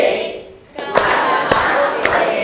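A classroom of pupils claps together in a concentration routine, sharp unison claps landing in a steady pattern, close and loud, with voices chanting around them.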